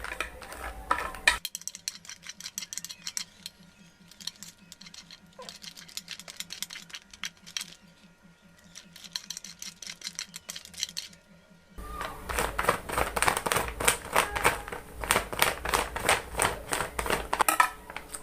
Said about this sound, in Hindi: अब हम लेंगे एक नाइफ और नाइफ की मदद से ये जो सारा जमा हुआ घी है अब हम इसको प्लेट में निकाल लेंगे।